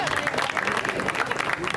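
At a boxing tournament, a crowd claps for the young medal and certificate winners, a brief, steady patter of applause with a voice talking over it.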